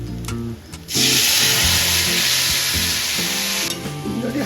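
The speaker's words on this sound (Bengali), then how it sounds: "এইখানে আমার বড়া ভাজা হয়ে গেছে বড়াটা আরও একটু কড়া হোক" Fritters (bora) frying in a pan of hot oil, a loud, close, steady sizzling hiss that swells after a short scrape and holds for several seconds, with utensil scraping and no talking.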